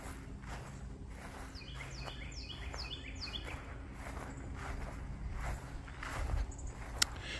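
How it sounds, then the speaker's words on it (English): A northern cardinal sings a short series of repeated whistled notes at a moderate distance in a backyard, over quiet outdoor background with faint rustling and footsteps. "That's a cardinal we can hear."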